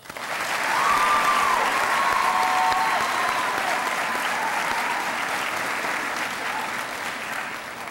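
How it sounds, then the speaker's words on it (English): Sustained applause from a crowd at an eighth-grade junior high school recognition ceremony, steady clapping that swells quickly and holds at a strong level for several seconds. "She deserves another round of applause."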